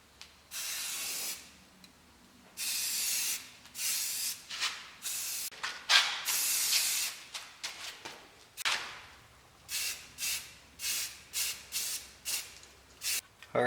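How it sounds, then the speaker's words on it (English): A spray can lays etching primer onto a fabricated transmission cross member in a series of about a dozen short, sharp hissing bursts separated by brief pauses, close and fairly loud, with no talking. "I'm going to hit this with some etching primer and then a couple coats of black"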